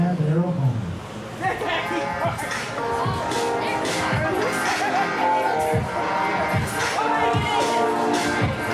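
A Fresno wrestling show crowd cheers and roars in a large venue, a dense, continuous wash of voices and whoops behind a ringside announcer's voice.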